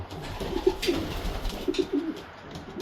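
A racing pigeon hen coos softly in a few low, rounded phrases, close by against light background noise, with no talking.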